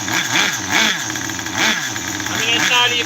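An idling engine running rich, with an uneven, pulsing low rumble that swells roughly every three-quarters of a second. A loud, close hiss and rattle sit on top.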